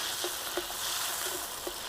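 Beef sizzles steadily with onion and tomato in a pan over an outdoor cooking fire, with a constant hiss and a few soft stirring taps.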